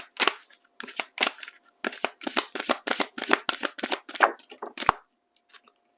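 Stay Inspired Oracle cards shuffled by hand in a run of sharp, close papery slaps and riffles, about a dozen bursts in an uneven rhythm, clear and alone with no talking.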